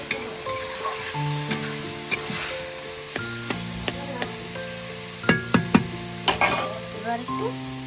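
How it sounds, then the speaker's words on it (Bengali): Food frying in a pan is stirred repeatedly, with sharp scraping strokes and clicks over a continuous close sizzle and no talking. "নাড়িয়ে দিচ্ছি আমি"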